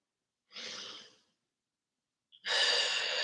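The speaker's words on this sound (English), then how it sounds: "Breathe in through your nose, out through your mouth." A person exercising breathes in through the nose and out through the mouth, two close, breathy exhalations separated by a short silence, with a small sniff before the second.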